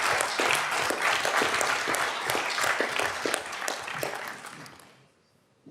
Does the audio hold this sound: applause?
yes